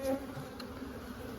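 Dense, steady buzzing of many honey bees close by at an open hive, a continuous droning hum.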